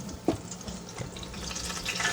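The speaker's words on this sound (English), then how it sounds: "while the chicken is frying" Wet-battered chicken pieces fry in hot oil with a steady, dense crackling sizzle at moderate loudness, close by, with a brief louder pop near the start and no speech.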